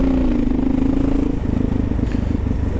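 A Kawasaki KLR motorcycle riding through New York City streets, its engine thrumming loud and steady up close with a held drone that drops in pitch midway, plus a faint rattle and scrape underneath.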